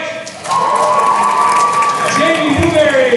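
A school assembly crowd cheers and applauds loudly for a cheer roster being announced, rising suddenly into sustained clapping and shouts after a brief spoken line.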